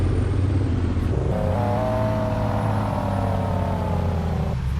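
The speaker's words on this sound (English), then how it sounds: "That's the engine brake." Simulated truck engine brake in Euro Truck Simulator, a loud continuous low rumbling drone whose pitch shifts as the brake cuts in and later drops off, with no talk.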